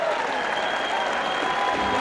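Michigan home crowd applauding and cheering after a college wrestling technical fall, a dense continuous roar of clapping filling the arena.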